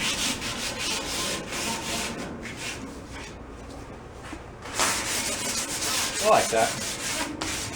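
Sandpaper of 320 grit scrubs paint off a Cushman paddy wagon body in rapid back-and-forth strokes, a close rasping hiss that pauses briefly midway before resuming; a voice speaks briefly over it.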